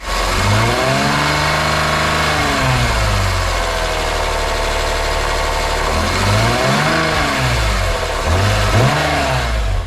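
A BMW S54 engine in an E46 runs steadily and loudly at idle for the whole stretch, a continuous low rumble with slight rises and falls in pitch, close to the microphone.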